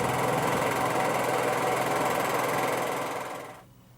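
A generator engine runs with a steady, buzzing drone, then winds down and fades out near the end.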